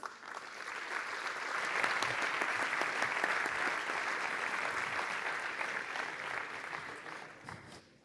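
A conference audience applauds steadily to welcome a speaker to the stage, a dense, even wash of clapping that holds for several seconds before tapering off at the end.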